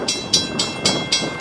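Amtrak train passing close by, a loud steady clickety-clack of wheels on rail joints with bright metallic bursts roughly every quarter second, no voices.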